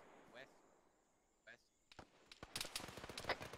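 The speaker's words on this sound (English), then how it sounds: "Hearing shots northwest." Distant gunfire crackles in a military shooter game set on a tropical island map, with a couple of isolated far-off shots followed by a rapid, uneven string of faint pops.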